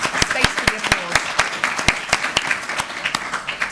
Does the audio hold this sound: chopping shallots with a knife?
no